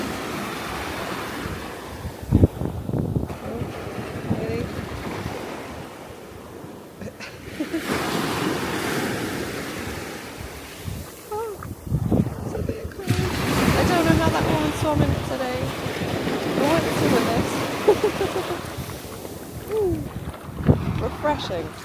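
Waves wash in and break on a Norfolk beach in repeated surges, with wind buffeting the microphone and people talking now and then.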